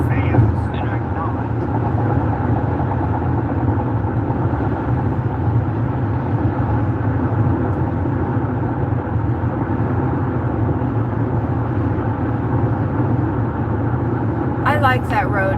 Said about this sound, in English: my car sounds like a great car